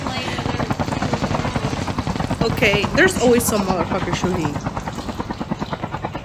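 A helicopter in the video game Call of Duty Mobile chops steadily and loudly throughout, its rapid rotor pulses continuous under someone talking and brief game effects.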